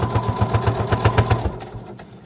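A sewing machine back-stitches a fabric face mask, a close rapid run of rhythmic thumping stitches for about a second and a half that then stops, leaving a faint hum.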